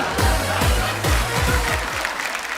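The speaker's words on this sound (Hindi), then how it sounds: "जोरदार तालियां" Audience at a Hindi poetry-recital stage show breaks into loud applause, a dense burst of clapping over a rhythmic thumping bass beat that fades slightly toward the end.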